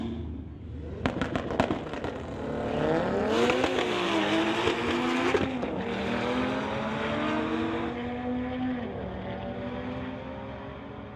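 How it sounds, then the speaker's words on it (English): A 2021 Tesla Model 3 and a 1993 Toyota Supra drag racing at a street-legal strip event: a sharp burst of crackles, then a loud engine roaring up through rising gear pulls and fading away into the distance. "Here is Clayton from Coquitlam in the 2021 Tesla Model 3, going against Taylor R in the 93 Supra"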